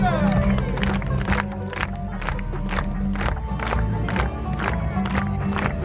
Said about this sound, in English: Alors on va tous taper dans les mains dans le rythme de la musique.